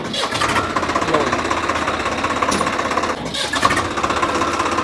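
A Swaraj 855 tractor, lightly used and in near-new condition, starts and runs with a loud, steady knocking diesel clatter close by, with a brief dip around the middle before the engine noise resumes and continues.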